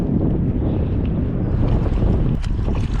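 Strong wind buffeting the microphone on a bass-fishing boat out on a lake, a loud continuous roar with faint water movement underneath and no voices.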